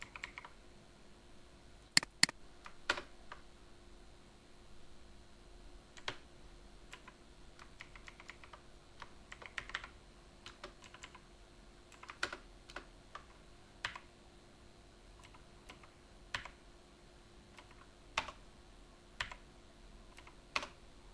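Code being typed on a computer keyboard, soft steady key clicks close by with sporadic sharper taps and brief pauses, quiet and alone without talk.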